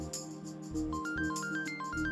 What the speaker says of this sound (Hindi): देखो जरा किसका फोन आया है, हिना का तो नहीं है?